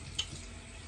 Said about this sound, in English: I gotta run the water and rinse this off my hand